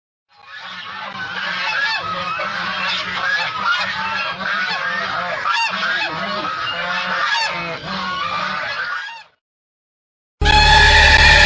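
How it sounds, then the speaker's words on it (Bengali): A flock of ducks quacking and honking loudly and continuously for several seconds, then a brief silence and an abrupt loud burst. "বাহ বাহ কি বড় বড় তরতাজা হাঁস"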